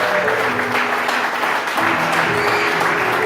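A church congregation applauds and cheers loudly in a dense, continuous burst of clapping and calls that fills the whole moment.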